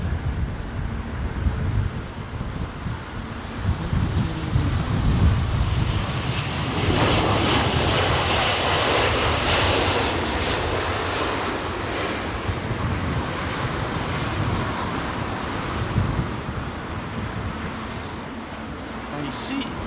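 An Airbus A330 with Trent 700 engines starts up at London Heathrow on a windy day, giving a steady, loud jet roar that swells midway, with gusts buffeting the microphone throughout.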